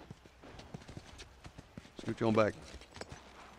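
Horse hooves clip-clop in The Last of Us video game, a steady, light walking rhythm of hoof taps that runs through the whole stretch while a voice briefly speaks.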